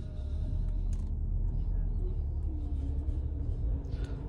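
A DS9 Opera car creeping forward during automatic park assist, a low steady engine and road rumble heard from inside the cabin with a few faint clicks.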